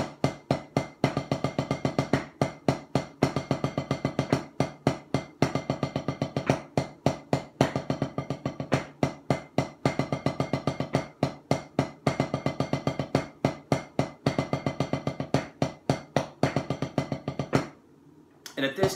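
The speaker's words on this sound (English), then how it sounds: "I prefer to do an 8-stroke roll, which is right, left, and now I'm on my left-hand lead" Drumsticks play a slow 8-stroke roll, with sharp close strikes in an even steady rhythm running throughout and cutting off near the end.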